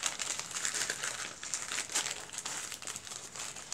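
Crinkly wrapping on a mail package from China being torn and opened, a steady, close run of crackling plastic rustles lasting throughout with no talking.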